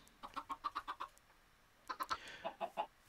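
Chickens in a video game cluck in quick, rhythmic series, one run of about eight clucks followed after a short gap by another cluster, faint and close with no talk.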